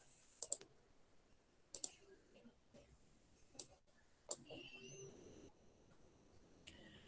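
Sharp, quiet computer mouse clicks, mostly single and double taps spaced irregularly, with soft speech briefly in between.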